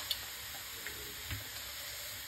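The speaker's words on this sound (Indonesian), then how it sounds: "Tinggal goreng kacang ya berarti." Peanuts frying in hot cooking oil give a faint, steady sizzle with a few soft ticks and clinks, no voices.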